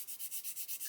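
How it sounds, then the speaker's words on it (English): Fine sanding strokes on the engine cover of a 1/24 scale Airfix Spitfire Mk.IXc plastic model, a quiet, steady back-and-forth rub repeating about seven times in under a second. "I've been trying to sand this without sanding the engine"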